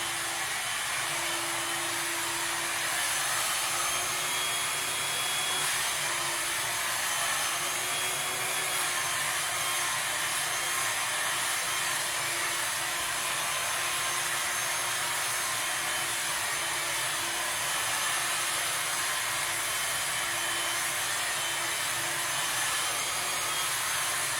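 A blow dryer roars steadily and loudly while long layered hair is round brushed, a constant airy whoosh with a slight wavering pitch as the brush rolls, and no talking.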